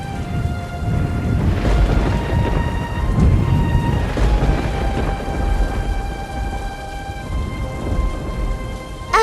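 Cartoon rainstorm effect: heavy, steady rain with deep rolling thunder rumbles swelling and fading, overlaid by sustained tonal music notes, loud and continuous with no voices.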